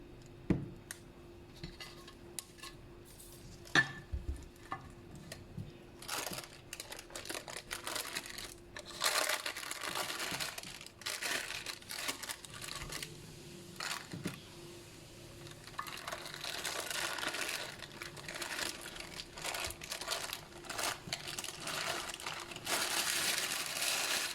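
A cake mould filled with marble cake batter is knocked against a surface several times to drive out bubbles. There are a few sharp, scattered knocks amid faint kitchen rustling and clinking.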